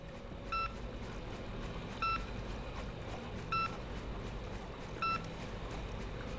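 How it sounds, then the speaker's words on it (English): Four evenly spaced electronic beeps, about one and a half seconds apart, from a mushroom-detecting sensor in the video game INFRA, ringing clearly over a steady low background rumble. "So that thing is detecting the mushrooms, that's the beeping."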